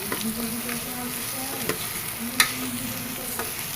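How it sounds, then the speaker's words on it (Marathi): Roasting masala with coconut, field beans and potatoes being stirred in a hot pan, a continuous sizzle with occasional scraping clicks of the spoon, close and steady, without talk. "चांगला मसाला लाय मसाला मिक्स होईपर्यंत हलवून घेते"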